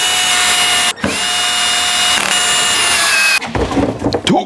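A power tool undoes the brake rotor bolts on a Vitus Sommet mountain bike, whirring close and loud in steady bursts with a short stop near one second. It ends in clattering, ratcheting handling noises.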